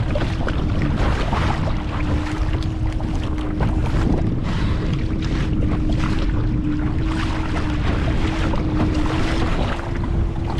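Strong wind buffets the microphone in a constant roar at sea on the coast, with a low engine-like hum running steadily underneath.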